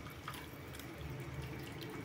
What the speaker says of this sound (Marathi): आता याच्यामध्ये थोडंसं पाणी टाकून घेऊया